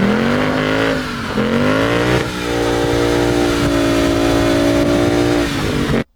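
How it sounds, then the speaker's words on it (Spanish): Ford Mustang 5.0 V8 of 450 hp held on locked front brakes for a burnout, its engine droning loud and steady at high revs with shifting harmonic tones, close up, then cutting off abruptly at the end. "¿Para qué? Pues para hacer un burnout."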